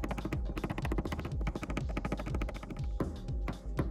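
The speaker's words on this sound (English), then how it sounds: "By tapping this down, I'm going to release a lot of the pressure" Repeated sharp taps of a knockdown tool on a car door panel, working down a nasty dent without repainting; dense, rapid metallic knocks with a steady rhythm, close and fairly loud throughout.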